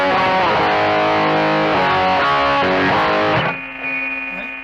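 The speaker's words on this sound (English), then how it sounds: "Let's turn on the Proco Rat pedal." An electric guitar through a BOSS eBand JS-10 set to a Proco Rat distortion emulation plays a few loud, gritty chords and notes, then a ringing sustained note with noisy hiss tailing off.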